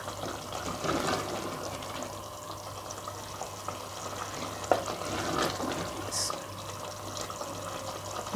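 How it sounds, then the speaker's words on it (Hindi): Chicken with spices roasts in a pan, giving a low, steady sizzle with occasional scraping stir sounds and a sharp clink, heard fairly quietly throughout. "तकरीबन 5 मिनट के लिए इसकी भुनाई करेंगे।"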